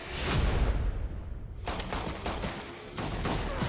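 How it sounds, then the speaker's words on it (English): A Genesis 10-shot shotgun fires on a film set, heard as a dense burst of loud blasts followed by rapid cracking shots with booming echoes, with no talking. "He's got this shotgun blasting out fire. It is a Genesis 10-shot shotgun."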